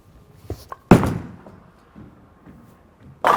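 A Track Theorem Solid bowling ball thuds onto the lane with one sharp, loud impact, rumbles down the lane, then ends in a crisp crash as it strikes the pins.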